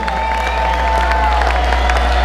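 A crowd at a live Roots Crew show applauds and cheers for a birthday. The clapping and whoops form a dense, steady wash that holds throughout, with a low hum underneath.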